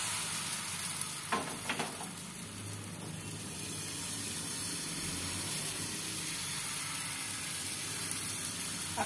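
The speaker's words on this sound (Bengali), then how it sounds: "একটা দুটো আমি একটু ভেজে একটু দেখিয়ে দিচ্ছি" Patishapta pancakes sizzle in a hot pan brushed with white cooking oil, a constant, close frying hiss with a couple of brief crackles near the start.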